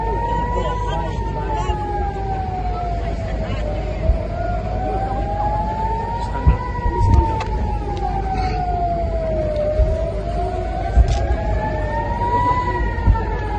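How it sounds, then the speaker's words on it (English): Air raid sirens wail in slow rising and falling sweeps at Ben Gurion Airport, Israel, steady and moderately distant, over a constant background rumble. "The sirens have gone off."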